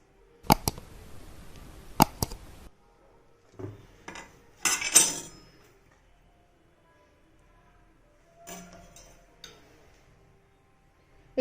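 Ribbon fish being chopped into pieces on a kitchen board, with a few sharp knife strikes and clinks early on, then sparse cutting and handling noises separated by quiet stretches.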